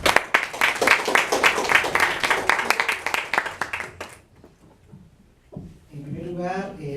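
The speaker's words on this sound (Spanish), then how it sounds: "Fuertes aplausos para ellos." Loud applause from the audience at a book launch on urban anthropology, dense clapping for about four seconds that then fades, followed by a voice beginning to speak.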